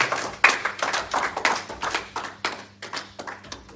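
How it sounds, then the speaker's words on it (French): A church congregation claps together in uneven, rhythmic bursts during a worship service, hands striking repeatedly at close range for several seconds, with no voices over it. "Est-ce qu'on peut acclamer?"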